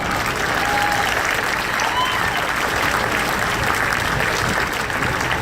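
A cruise-ship farewell party crowd gives a singer a sustained burst of loud, dense applause that lasts the whole time, with a few cheers mixed in.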